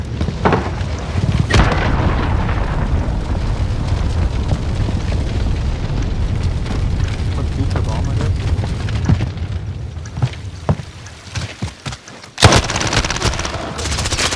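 Rapid gunfire and explosions from a first-person shooter search-and-destroy match rattle almost without a break in loud bursts. Players talk over the shooting, and a sharp loud blast comes near the end.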